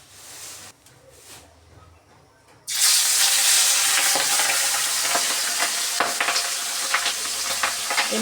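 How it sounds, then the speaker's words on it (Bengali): Pabda fish drop into hot oil in a wok and start frying. After a short, quieter stretch, a loud, steady sizzle breaks out and carries on, with some faint stirring clicks. "মাছগুলি তো ভাজা বসিয়ে দিলাম এখন ভাজা হোক"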